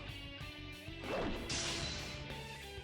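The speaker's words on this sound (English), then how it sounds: "My strike shatters the servos." In the fighting game Persona 4 Arena Ultimax, a strike shatters a robot's servos: a single loud crashing smash with a bright metallic burst, followed by a lingering, noisy tail.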